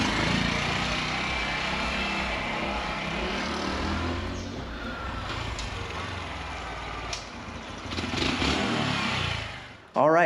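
Honda Trail 125 (CT125) motorcycle on a test ride after a chain adjustment, its engine running steadily and loud up close for most of the stretch, with some speech-like sound mixed in before it cuts off near the end.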